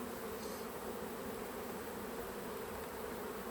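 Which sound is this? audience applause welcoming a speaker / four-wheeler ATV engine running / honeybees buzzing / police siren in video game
honeybees buzzing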